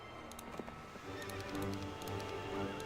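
Horse whinnies and hoof clip-clops play at the stables in the Heroes 3 video game, a game sound effect repeating over a steady low musical background, moderately quiet.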